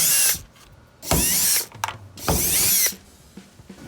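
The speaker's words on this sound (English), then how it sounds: "I've got a 8mm socket for these 3 bolts right there" A power driver with an 8mm socket spinning out the three fuel door bolts on a Ford F150, three loud whirring bursts separated by short pauses with faint clicks between them.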